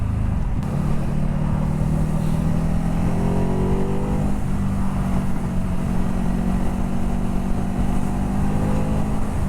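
A Ducati Hypermotard 950 SP engine with aftermarket exhaust roars steadily as it rides and accelerates, rising and falling pitch under constant wind rush, loud and close.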